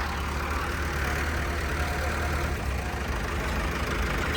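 A Swaraj 744 tractor, around a 2010–11 model, idles nearby with a steady, low, rumbling engine note that holds evenly throughout, and no voices are heard.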